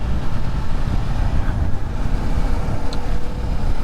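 A 2024 Kawasaki Ninja 500 motorcycle engine runs with a steady, low drone throughout, a constant rumbling hum with no pauses or voices.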